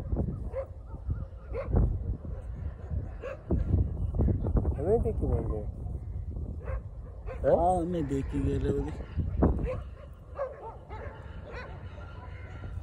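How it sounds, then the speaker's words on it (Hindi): Dogs barking outdoors at night, with scattered barks, yips and whimpering howls repeated over several seconds under nearby people talking. "कुत्ते भौंक रहे काटेंगे तो नहीं फिलहाल।"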